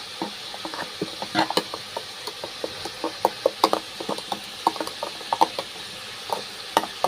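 Chicken fries in a pan with a turmeric, salt and cumin spice mix, a soft sizzle broken by frequent sharp clacks and scrapes of a spatula stirring against the pan, close and without talk.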